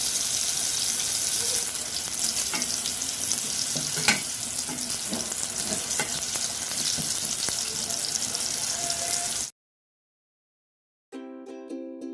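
Chicken kebabs frying in a pan on a stove, a steady close hiss and crackle of hot oil with small pops, running loud for about nine seconds before cutting off, followed by a short musical tone.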